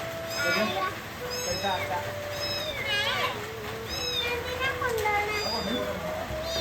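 A small kitten mews repeatedly in short, high, rising cries, close by, with children's voices and chatter in the background.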